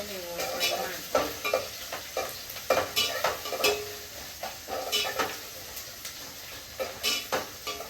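Food frying in a pan with a steady background sizzle, while a utensil stirs and scrapes against the pan in repeated close, rhythmic strokes.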